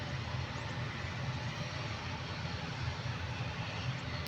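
A Cebu Pacific jet airplane taxiing and taking off at an airport gives a loud, continuous broadband engine roar that holds steady throughout.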